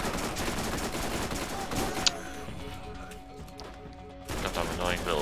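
Rapid SMG gunfire in the shooter game Borderlands, dense bursts of automatic shots with game effects, a brief lull, then firing resumes, with someone talking over it.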